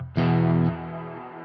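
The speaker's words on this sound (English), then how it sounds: "That's not a clean distortion at all." An electric guitar tuned to E standard and played through a Neural DSP Nano Cortex amp modeler rings out one heavily distorted chord, loud and close, that sustains and then fades.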